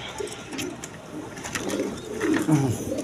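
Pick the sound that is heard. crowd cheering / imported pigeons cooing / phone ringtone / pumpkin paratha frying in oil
imported pigeons cooing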